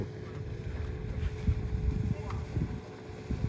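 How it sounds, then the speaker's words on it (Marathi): A boat moving over the water at a Maldives resort, a low rumbling engine churn mixed with wind buffeting and splashing, heard from nearby, with faint voices in the background. "ये बोट आली ना त्याच्यामध्ये निघून चाललंय दूर चाललंय"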